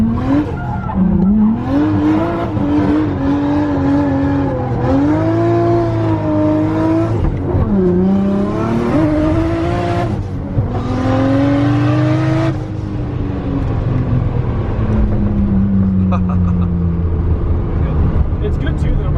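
A Nissan Skyline accelerating hard and driving fast, engine revving up and down through gears with tire squeal, loud and close, with people talking over it.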